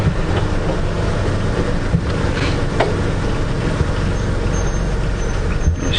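A safari vehicle's engine idles steadily and close, a constant low rumble throughout with no talk.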